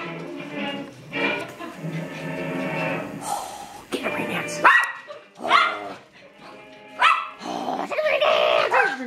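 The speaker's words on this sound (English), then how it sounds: "There's doggies up here." Several dogs bark and yip in uneven bursts, fairly close, with some growling and whining mixed in between.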